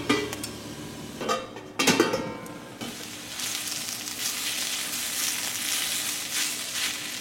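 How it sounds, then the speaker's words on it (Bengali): Grated red winter radish and green peas cooking in a pan for a Bengali ghonto, a few clattering stirs and scrapes at first, then a steady close sizzle of frying that continues alone. "এবারে পরের 10-15 মিনিট ঘন্টটা একটু ভাজা ভাজা করতে হবে"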